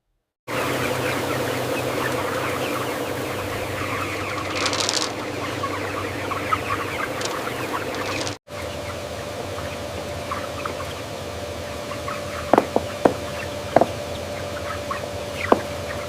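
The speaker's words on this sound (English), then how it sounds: "a massive modern poultry farm producing chickens destined for fried chicken" Chickens in a huge modern poultry house, a dense steady murmur of many birds with scattered clucks, continuous ambience with no talking.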